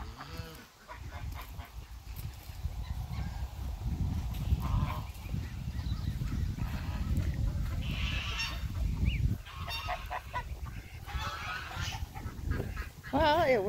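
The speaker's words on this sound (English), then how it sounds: "I'm following you, little duck." Farm ducks honking and quacking close by during rainy weather, a busy ongoing chorus of nasal calls over damp background noise.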